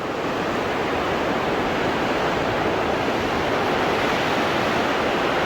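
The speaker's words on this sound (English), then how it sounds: "In case you wanted to hear what a downpour" Heavy rain drums steadily on a greenhouse roof overhead, heard from inside, a dense, constant roar with no pauses and no voices.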